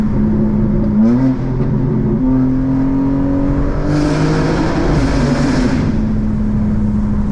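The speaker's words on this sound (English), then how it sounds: "let's actually get a little bit of exhaust" A 2024 BMW M4 Competition xDrive's exhaust roars as it accelerates through gears in rear-wheel-drive mode, engine pitch climbing, dipping at shifts, and rising again, loud and close.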